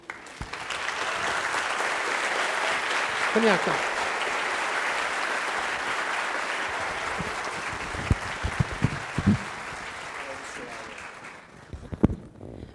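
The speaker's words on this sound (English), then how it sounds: "please, a big round of applause to Monica, if you will come up on stage." Audience applause at a keynote conference talk, broad sustained clapping from a large crowd that holds steady and then fades out, with a brief spoken call near the end.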